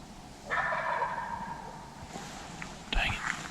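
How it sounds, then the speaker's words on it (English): A wild Georgia gobbler lets out one loud, rolling gobble that sounds close during a spring turkey hunt, followed by quieter rustling and a hunter's faint whisper. "I heard a turkey gobble in mid-stride and he sounded really close"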